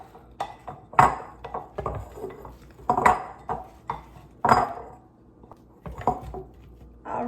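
Roasted pesto potatoes being tossed with Parmesan cheese, a utensil repeatedly clinking and scraping against a dish in irregular strokes, close and distinct against a quiet background.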